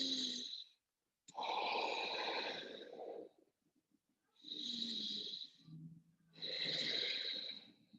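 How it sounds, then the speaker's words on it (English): Deep breathing held during a yoga pose: slow, close, airy inhales and exhales in long swells with short pauses between them, with no talking. "2 breaths here."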